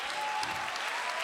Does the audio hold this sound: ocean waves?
no